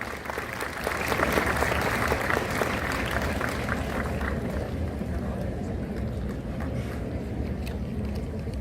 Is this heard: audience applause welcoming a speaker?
yes